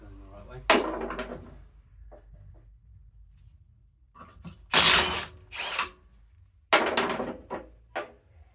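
Power tool taking a wheel off a Muck Truck mini dumper in a workshop, with short bursts of loud whirring and ratcheting between quieter gaps, heard close up with no talking.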